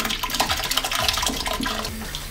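Liquid drains steadily from casein curds strained through reusable cotton wipes, a soft continuous trickle and splash.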